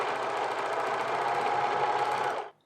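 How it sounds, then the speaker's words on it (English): A serger sewing machine runs steadily while serging one edge of fabric belt loops for men's pants, a loud, continuous motor whir that holds for about two and a half seconds and then stops abruptly. "With the belt loops, I'm serging just the one edge."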